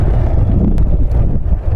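Steady outdoor wind rumbles and buffets the microphone without a break, loud and close, under an overcast sky beside clear water; no talking is heard.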